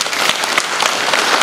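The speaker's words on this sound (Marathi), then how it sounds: "त्यांच्यासाठी खरोखर एकदा जोरदार टाळ्या वाजवा." A lecture audience breaks into loud, dense applause, continuous close clapping with sharp individual claps standing out.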